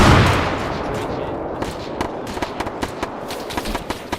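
Repeated suppressing gunshots in a military tactics video game, a steady series of sharp single reports every fraction of a second, fairly loud and close, with no speech.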